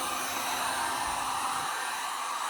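A fan blows over fresh camo paint on a Crosman F4 air rifle, a continuous close airy rush with a low hum underneath, steady and even throughout with no voices.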